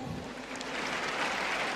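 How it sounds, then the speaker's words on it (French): Faint, distant applause from a comedy audience, a soft continuous wash of clapping that stays even and low in level throughout. "applaudissez très fort pour vous"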